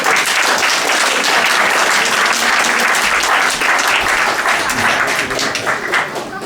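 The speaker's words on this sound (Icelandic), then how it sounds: "Gefið þið gott klapp og góð skemmtun." A crowd applauds at a culture evening in Eyrarbakka, clapping loud and steady for several seconds with a few voices mixed in.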